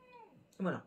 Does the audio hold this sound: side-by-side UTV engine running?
no